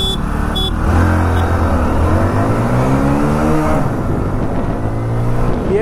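Cars and small motorbikes rev and pass one after another along a road at an informal drag race, the engine pitch rising and falling as each vehicle approaches and goes by, loud and continuous.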